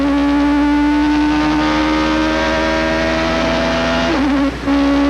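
Onboard a Toyota Atlantic open-wheel race car on the 1991 Long Beach street circuit, engine droning loud and steady at high revs with a brief dip as it shifts near the end, no voices.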